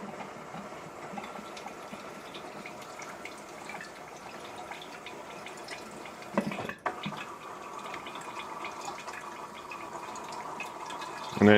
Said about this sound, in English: you have to be prepared for the water to spit out, so I'm using a pitcher